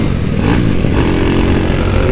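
Classic motorcycles idling and rumbling close by at a riders' gathering during a Galungan group ride, a steady low engine drone with some clatter throughout.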